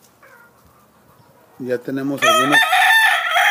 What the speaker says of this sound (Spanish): Este es un gallo de Blue Face